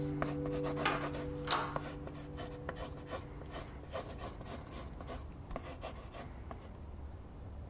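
A pencil scratches across paper while someone draws, giving quiet, irregular strokes and rubbing sounds close by, with no talking.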